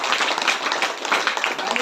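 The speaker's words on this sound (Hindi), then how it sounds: "ताली बजाकर परमेश्वर की" A church congregation at a prayer meeting claps hands together in a quick, rhythmic patter, fairly close and continuous over the short stretch.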